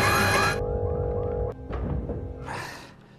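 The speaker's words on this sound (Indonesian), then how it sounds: "Alarm yang nyaring membuat pria ini akhirnya merusak sistem dan juga mencari tahu bagaimana cara untuk mematikan alarm yang terus berbunyi" A loud electronic alarm in a film blares as a steady high tone, cuts off, then gives way to bursts of beeping and a sharp click, with a final shrill burst before fading.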